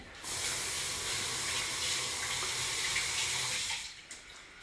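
Water running steadily from a kitchen tap while something is rinsed under it, a constant close splashing rush that stops near the end.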